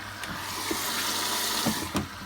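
A washing machine set to a 30-minute daily wash begins taking in water, a steady hissing rush of inflow with a few faint clicks and knocks, close and continuous throughout.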